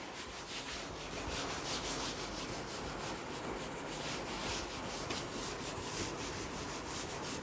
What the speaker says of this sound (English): I'll rub this out.